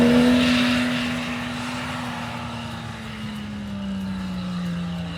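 A strained 4-litre engine in a Toyota 4Runner drones loudly and steadily on an off-road climb, its pitch sliding slowly downward as it labours, with no voices.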